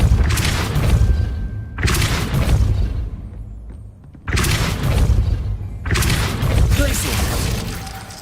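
Spell blasts from the video game Hogwarts Legacy come in heavy booming bursts with shattering crashes, arriving in roughly four separated waves with short quiet gaps between them, loud and close.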